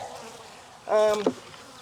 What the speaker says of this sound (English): Just a few bees up here starting to work.